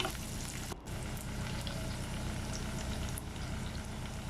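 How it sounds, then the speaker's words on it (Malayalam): Garlic and mustard seeds fry in hot oil for prawn achar, giving a steady close sizzle with small scattered pops throughout and one brief dip midway. "കടുക് പൊട്ടി വരുമ്പോഴേക്കും വെളുത്തുള്ളി ആഡ് ചെയ്ത് കൊടുക്കാവുന്നതാണ്"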